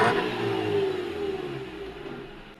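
A 2007 Toyota Corolla XLi petrol engine with a black smoke fault is revved close by, a rising whirring roar that peaks early and slowly falls back toward idle, heard alone.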